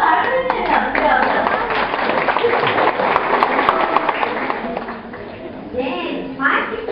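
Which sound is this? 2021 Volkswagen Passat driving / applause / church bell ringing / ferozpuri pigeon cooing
applause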